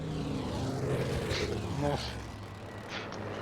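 A propeller airplane engine drones steadily in the World War II shooter Battlefield V, a continuous mid-level hum under the voices of players talking.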